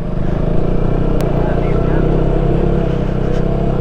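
A motorbike climbs the mountain road to Muktinath, its engine a steady, close, heavy drone throughout, with muffled voices faintly mixed in.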